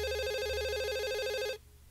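A telephone rings in the video game Dog Mendonça & Pizzaboy, a steady electronic trill that fills the room for about a second and a half, then stops abruptly into quiet.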